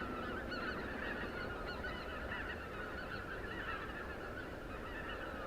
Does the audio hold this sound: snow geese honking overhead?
yes